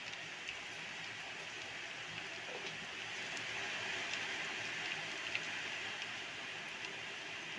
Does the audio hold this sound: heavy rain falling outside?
yes